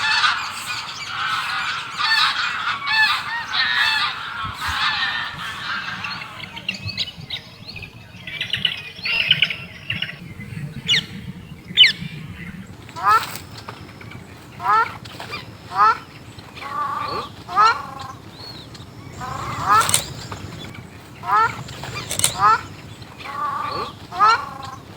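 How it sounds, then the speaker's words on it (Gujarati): Geese honk repeatedly in bursts from a flock across open water at Thol Bird Sanctuary, Gujarat, after a stretch of softer chatter and background voices; calls are loud and close. "પક્ષીઓનો સુંદર અવાજ આવી રહ્યો છે"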